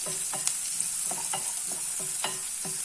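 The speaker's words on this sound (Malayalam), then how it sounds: "ഒരു സവാള ചെറുതായിട്ടരിഞ്ഞത്, നല്ലോണം വഴറ്റണം." Finely chopped onion sautéing in a pan for an onion capsicum curry, a steady close sizzle broken by about a dozen scraping stirs of a spoon at an even rhythm, with no talk.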